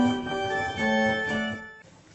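A pipe organ plays its 2-foot fifteenth stop blended with the gamba, a bright, reedy sustained chord that shifts notes for under two seconds, then is released into a short room echo.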